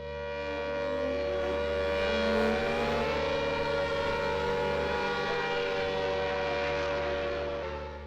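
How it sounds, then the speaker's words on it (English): Air raid sirens wail steadily during wartime bombing of Taiwanese cities in 1945, a loud sustained rising and falling tone with layered harmonics and low rumble underneath, continuous for the full stretch with no speech. "Air raid sirens."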